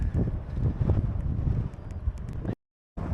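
Strong, gusty wind buffets the microphone with a dense low roar, then cuts out abruptly for a moment before resuming.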